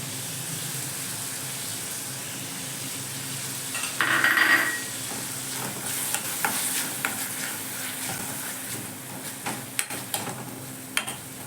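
Masala paste of ground onion, green chili, cinnamon and clove frying in a pan for shahi chicken biryani, a steady sizzle that flares as the paste drops in, followed by stirring and scraping clinks.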